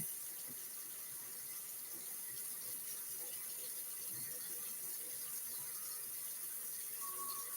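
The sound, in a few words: hot water running from kitchen tap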